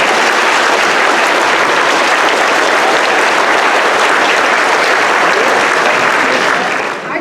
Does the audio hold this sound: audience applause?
yes